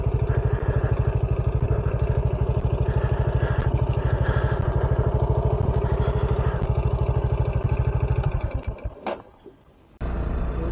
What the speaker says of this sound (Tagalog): igagarahe ko muna yung motor.